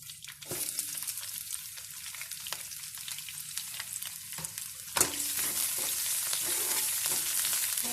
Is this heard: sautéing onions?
yes